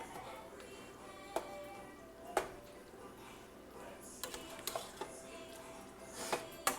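A spoon stirs lentil soup with tomato paste in a pot. Sparse, faint clinks and taps of metal on the pot come at irregular intervals over a quiet background.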